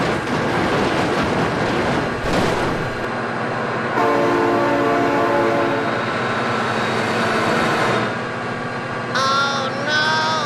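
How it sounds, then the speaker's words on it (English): A train rolls past loud and close with a rumbling, clattering roar, and its horn sounds in long sustained blasts partway through, followed by shorter honks near the end. "Oh my god, train!"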